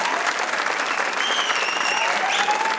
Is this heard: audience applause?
yes